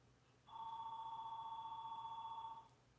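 A telephone rings with one sustained electronic tone, clear and fairly close over a quiet background, starting and stopping cleanly with no talk.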